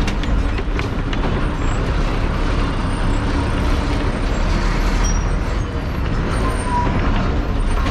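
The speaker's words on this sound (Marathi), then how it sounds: "समोरून गाडी आली ती आहे माहूर नांदेड गाडी" An MSRTC ST bus on the Mahur–Nanded route at the Ardhapur bus stand, a loud, continuous rumble of engine and road noise that stays close and steady throughout, with no one speaking.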